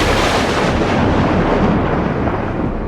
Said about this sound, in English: we got hit with the loudest thunder I had ever heard in my life